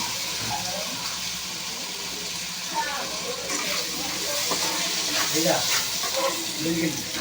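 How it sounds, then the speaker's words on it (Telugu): Ginger garlic paste frying in a pan for a jackfruit seed and brinjal curry, a steady soft sizzle and hiss with light stirring scrapes, while someone talks over it. "అల్లం వెల్లుల్లి పేస్ట్ అయితే దంచి పెట్టాను అది కూడా వేసేస్తున్నాను అది కూడా వేసి ఇవన్నీ ఫ్రై అయ్యే వరకు ఫ్రై చేసుకోవాలండి"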